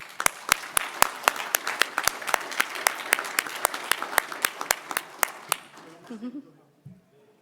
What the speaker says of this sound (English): Please join in a round of applause.